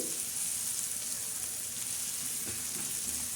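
Onions, green chillies and coriander fry in a pan for egg bhurji, a steady, close, even sizzle that continues without a break.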